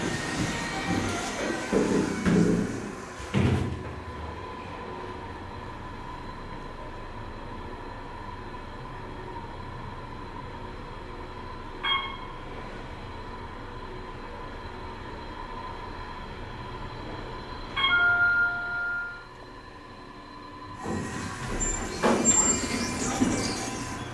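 An Otis Series 2 hydraulic parking elevator at the Loews Portofino Bay Resort rides between floors with a steady low mechanical hum, framed by louder clattering door and motor noise at the start and end, with a couple of faint clicks midway.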